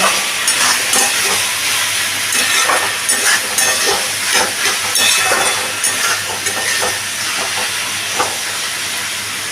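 Potatoes and pointed gourd frying in a pan with a loud, continuous hissing sizzle and faint stirring scrapes throughout, no voices.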